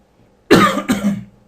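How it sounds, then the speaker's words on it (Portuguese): A single close, loud cough in two quick bursts, heard alone with no talking. "a minha tosse aí"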